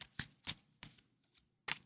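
Tarot cards being shuffled close up: four or five quick, crisp riffling bursts with short gaps between them and no voices.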